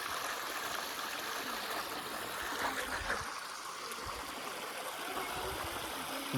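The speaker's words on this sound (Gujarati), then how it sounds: "પાણીની ધારાથી" Water pouring in a stream at the Gautameshwar Mahadev temple, a faint, steady trickling and rushing flow with small splashes, heard alone at low level.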